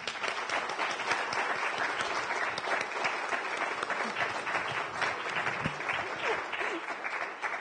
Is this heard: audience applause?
yes